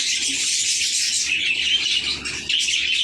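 A male pet cockatiel in a home aviary gives bright, high chirping calls, close and fairly continuous, with short breaks and faint fluttering under them.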